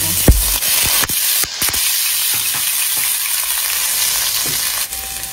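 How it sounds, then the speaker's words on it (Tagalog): Garlic and onion sautéing in hot oil for pocherong pata, a loud, steady close sizzle and crackle with occasional clinks and scrapes of a utensil against the pan, no voices. "dito na rin ako magigisa. Lagay ko yung bawang sibuyas sa na."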